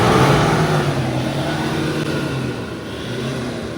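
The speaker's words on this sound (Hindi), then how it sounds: "और एक बार मैं आपको गाड़ी की रेव करके दिखाऊं ना" A Toyota Innova engine revs hard and close in one continuous loud, rough roar lasting several seconds, holding steady before easing back slightly near the end, with no talking.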